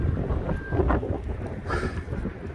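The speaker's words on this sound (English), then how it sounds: "It's also unseasonably windy." Strong gusting wind buffets the microphone at a skate park on a mild December day in Michigan, a steady rumbling roar that swells and eases for a couple of seconds with no voices.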